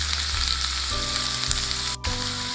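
Chopped green chili and garlic sizzle steadily in hot oil, a loud, close, continuous frying crackle with faint stirring clinks and a brief dropout near the end.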